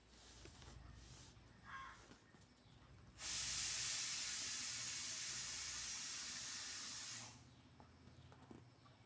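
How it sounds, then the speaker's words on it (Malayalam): Mustard seeds, dried red chillies and chopped shallots frying in coconut oil for a mango pulissery, a loud steady sizzling hiss that bursts in suddenly and holds for about four seconds before cutting off. "2 ടീസ്പൂൺ വെളിച്ചെണ്ണ ഒഴിച്ച് കടുക് പൊട്ടിയതിന് ശേഷം വറ്റൽമുളകിട്ട് 4 ചെറിയ ഉള്ളി ചെറുതായി അരിഞ്ഞത് നമുക്ക് മൂപ്പിച്ചെടുക്കാം."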